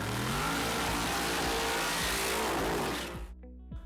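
Top fuel drag racing car engine roaring at extreme volume, a dense continuous blast with sharp pops and crackles, cutting off abruptly near the end.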